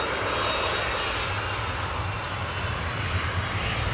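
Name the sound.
JAL Boeing 767-300ER from Haneda landing at Itami Airport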